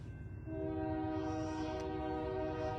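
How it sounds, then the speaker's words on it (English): A train passes with a long, sustained horn blast over a low mechanical rumble, loud and close for the whole moment. "I can hear the train. That is a real train."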